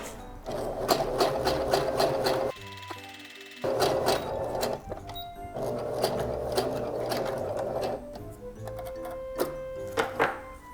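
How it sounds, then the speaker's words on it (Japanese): An old household sewing machine stitches fabric, its rapid mechanical chatter running steadily with brief pauses and restarts, close and fairly loud with no talk. "これ相当古いミシンですよ。"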